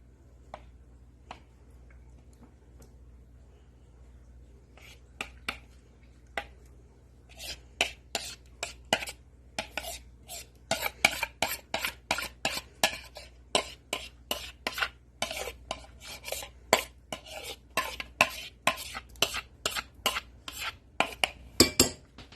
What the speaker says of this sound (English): Now I'm going to dump on the sauce. It's regular homemade sauce.